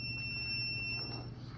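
A land mine detector rover gives a steady high electronic beep on finding metal. The tone holds throughout, faint and thin above a low hum and background noise, with no talking.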